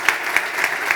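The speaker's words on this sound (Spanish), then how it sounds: "Un aplauso." A few evenly spaced claps ring out at a conference panel on sustainable biodiversity and international cooperativism, fairly close and distinct, about four in quick regular succession.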